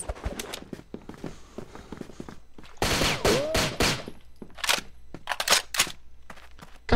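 Rapid bursts of gunfire from a 60-round gun in a video game, firing in loud clusters over a busy game soundscape with a few separate single-shot strikes.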